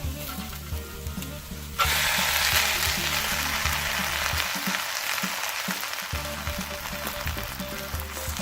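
Cooked broken wheat sizzling as it fries in a pan for Kerala-style upma, with a clear surge of frying noise after it goes in and scraping stirs continuing throughout, no talking.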